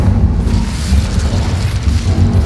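An Incendio fire spell erupts in Hogwarts Legacy as a dense, loud, continuous rumbling roar of flame that holds steady for its whole length.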